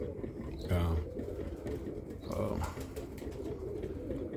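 Birmingham Roller pigeons give soft, low cooing calls in a loft, faint against steady background noise, with a louder coo or two near the start.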